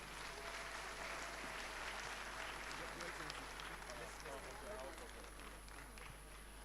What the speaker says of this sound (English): A round of applause for them as they come.